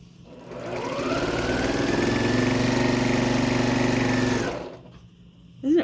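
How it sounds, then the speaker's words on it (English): A sewing machine stitching quilt fabric pieces together runs in one steady, continuous whirring burst of about four seconds, close and moderately loud, then stops. "So I'm just going to sew all these together."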